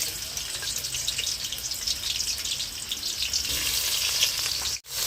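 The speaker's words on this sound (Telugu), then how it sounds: "బియ్య వేడెక్కింది, ఎర్రగడ్డలు వేసుకున్నాము." Onions fry in hot oil in a pan, producing a continuous hissing sizzle that holds steady before a brief sudden drop near the end.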